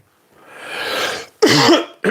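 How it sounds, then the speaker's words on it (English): One person coughs and clears their throat nearby: a breathy rasping build-up, then a sharp, harsh cough and a short final hack, all alone with no talk. "I just want to cough and be like, bleh, get out."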